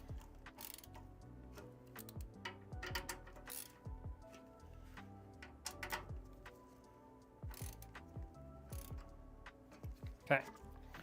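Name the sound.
screwdriver tightening PC case fan screws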